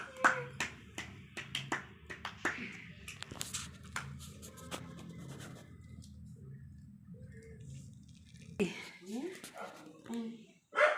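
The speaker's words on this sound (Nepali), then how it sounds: "ह्याप्पी दसैँ ताली पर्काऊ ताली" Family members clap hands during a Dashain celebration at home, sounding as a run of scattered, uneven claps. Children and adults talk over and between the claps.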